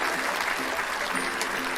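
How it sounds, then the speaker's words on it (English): A small group of people claps in steady applause during a podcast recording, dense and close, filling the whole moment with continuous hand clapping. "That deserves a round of applause right there, Mr. Thomas."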